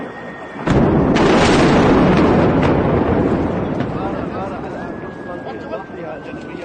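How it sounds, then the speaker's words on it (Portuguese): Missile strike on an ammunition depot at Beirut airport, a sudden loud blast that erupts into a long roaring rumble and slowly fades, with speech running over it. "Aqui a imagem da explosão, justamente visando algum depósito de munição que tinha ali no aeroporto de Beirute"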